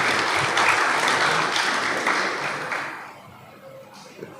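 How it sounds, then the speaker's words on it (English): Applause from an audience at a school event, a dense wash of many clapping hands, loud at first and thinning out toward the end with no talking. "So a round of applause."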